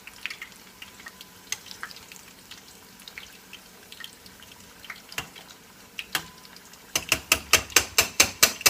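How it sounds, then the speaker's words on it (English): Oil crackles and sizzles quietly with scattered pops as spring rolls fry, then a burst of sharp, rapid rhythmic crackling near the end. "So y'all can see the spring rolls frying."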